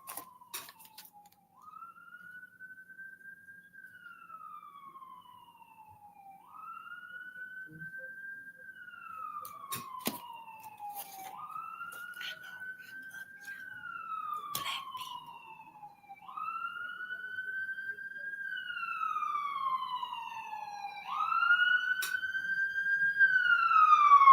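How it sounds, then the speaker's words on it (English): An ambulance siren wails in a repeating rising-and-falling pattern, about five long cycles, growing steadily louder as the vehicle approaches and passes close by. "As long as it took that ambulance to make it from down there"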